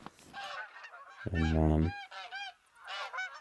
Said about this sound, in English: Got a few geese flying over.